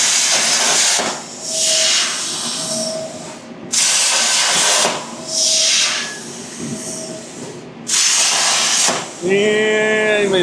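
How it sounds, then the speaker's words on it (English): An air compressor runs in a workshop, giving repeated loud hissing bursts of about a second each over a steady motor hum. A voice briefly overlaps near the end. "I gotta turn the air compressor on."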